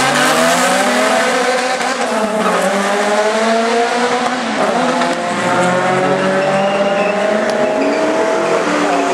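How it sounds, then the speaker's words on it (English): Red Honda Civic drag cars, one running with no hood and racing another red Civic, roar off the line with loud, sustained engine revs climbing through the gears, tire squeal mixed in, close and continuous with no talking. "left lane, no hood Honda against right lane Robbie Frank"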